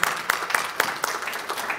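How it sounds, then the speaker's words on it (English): Audience applause at a foundation kickoff luncheon, a short burst of steady clapping with sharp individual claps, moderately loud and continuous, with no talk over it. "So please join me in giving the faculty, the staff, the students a big round of applause"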